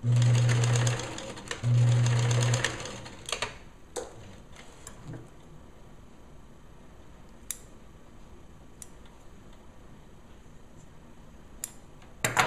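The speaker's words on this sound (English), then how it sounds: "we'll just go and do a zigzag stitch close together here" A sewing machine zigzag stitching close together over a ribbon loop on a bereavement gown, two loud rapid bursts of whirring stitches at the start, then quiet with scattered faint clicks and ticks.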